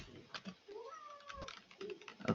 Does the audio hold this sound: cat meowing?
yes